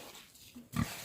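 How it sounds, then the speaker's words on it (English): A pig on a farm gives a single short, loud grunt near the close, following a quiet stretch of faint background noise. "There's the other piggy."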